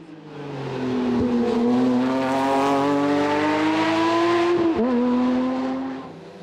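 A Porsche 997 GT3 RS racing in a hillclimb roars past close and loud, its engine note holding high and steady, with a quick gearshift dip near the end before fading.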